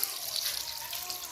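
Water pours steadily from a vessel in a rural village home, a continuous splashing rush that stays even and fairly close throughout.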